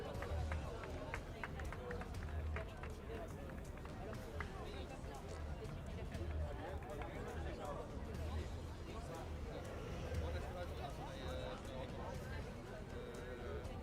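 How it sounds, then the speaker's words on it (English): Crowd applause ripples for the second-place driver at a UAE kart racing series prize-giving, steady scattered clapping mixed with murmuring voices and talk over a constant outdoor rumble. "In second place, a round of applause for Yusuf Busanad."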